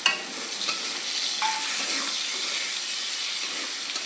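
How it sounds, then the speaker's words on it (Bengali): Boiled bitter gourd frying in a pan, a steady close sizzle with a bright hiss that runs unbroken throughout, plus a few faint clicks of a utensil and no talk. "এবার আমি উচ্ছেটা ভেজে নিলাম।"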